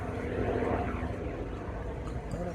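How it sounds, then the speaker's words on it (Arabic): An aircraft flies over a hotel area in Bali, a steady broadband engine drone that holds at a constant, fairly loud level throughout with no speech. "هليكوبتر، الطيارات،"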